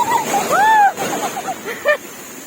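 Strong sea waves at Yermal beach where people are bathing, a constant washing surf roar with a few brief voice-like calls rising over it.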